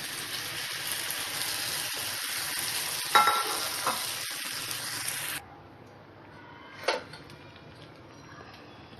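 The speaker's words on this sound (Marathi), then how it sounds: "आता आपण पालक ऍड करणार आहोत।" Spinach leaves hitting a hot pan of sautéed onion, garlic and chili for palak paneer, giving a steady close sizzle and stirring scrape that suddenly drops to a quieter frying hiss, with a brief stir partway through.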